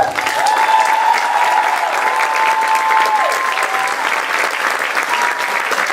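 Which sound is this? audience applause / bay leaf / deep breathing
audience applause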